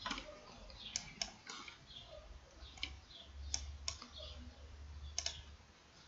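A computer mouse clicks in sharp, separate taps at irregular intervals over a faint low hum, with no one speaking.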